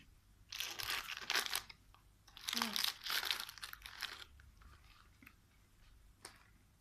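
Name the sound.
chewing crunchy food during a blind taste test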